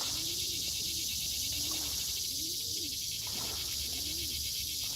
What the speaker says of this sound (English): Y'all hear that pigeon pretty good, huh?